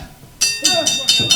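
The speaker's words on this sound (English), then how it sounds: "That's the bell." A bell rings in quick repeated strikes to end a wrestling match on a live event night. The clangs are loud and bright, with crowd noise and a commentator's voice running underneath.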